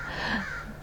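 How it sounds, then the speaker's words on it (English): Young crows cawing from the trees of an older forest, a loud harsh call carrying across the short stretch, with no talking. "We've got some young crows up in the trees right now."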